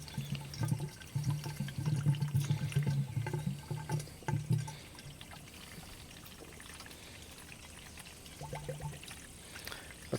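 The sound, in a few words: pouring water into a Mercedes 300CD cooling system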